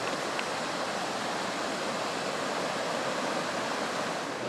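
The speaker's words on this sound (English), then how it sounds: "Right next to the creek." A creek flows steadily right beside a forest campsite on a trail, a constant close rush of water with no other sounds.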